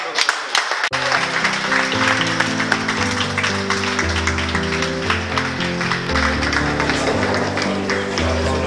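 Applause at a San Camilo feast-day gathering of the Misioneros in Vigo, a steady wash of clapping mixed with sustained tones like music or voices, running loud and continuous for several seconds after a brief pause.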